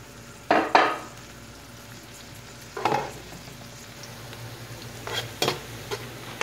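Onions frying in a pan for Saudi kabsa, a steady low sizzle under a few separate bursts of stirring as a utensil scrapes and tosses them, close up with no talking.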